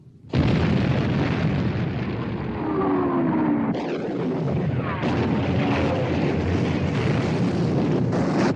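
Warship guns fire in a 1960 war film about the sinking of the Bismarck, with sustained, loud, booming blasts and rolling rumble that fill the whole stretch, renewed by fresh detonations partway through.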